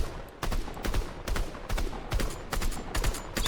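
Rapid bursts of gunfire from a weapon in the video game Fortnite, loud and close, in several quick volleys with short gaps between them and no talking.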